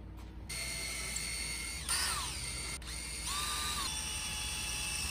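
A cordless power drill drives brass screws into pre-drilled wood, producing a steady motor whine with two rising and falling bursts as the screws bite and seat, close and unaccompanied by speech.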